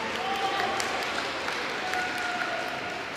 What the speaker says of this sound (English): A round of applause for Shake Ross.